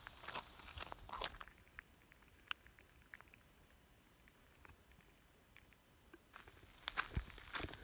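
Footsteps crunch on dry ground past ghost gum trees in the Western Australian bush, faint and irregular, with clusters of steps at the start and end and a quieter stretch between, no voices.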